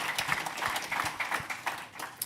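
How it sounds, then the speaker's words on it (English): Audience at a zero emission HGV and infrastructure summit claps, a dense patter of hands from a moderately sized crowd, steady and close throughout the short burst. "I think that deserves a round of applause"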